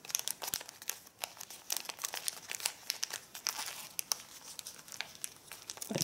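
Stiff paper crinkles and crumples in quick, close bursts as an origami belt is folded and refolded, with sharp crackles and soft rustles continuing throughout and no talking.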